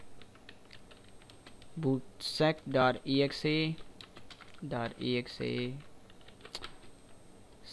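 Keys tapped on a computer keyboard while a command is entered during a Windows 7 USB install, steady close clicking running throughout beneath a voice.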